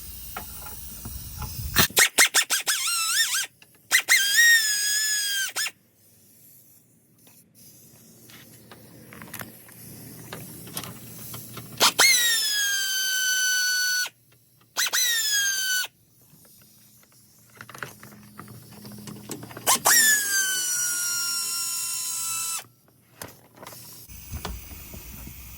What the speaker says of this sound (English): I'm gonna go ahead and use my DeWalt power tool.